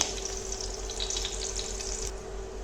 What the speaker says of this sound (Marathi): मिरच्या व्यवस्थित अशा परतून घ्यायच्या आहेत आपल्याला